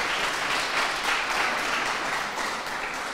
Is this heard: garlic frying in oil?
no